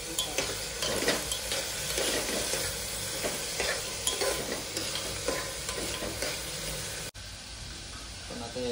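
An onion mixture for khichdi frying and being stirred in a pot, with a continuous sizzle and repeated spoon scrapes that pause briefly near the end.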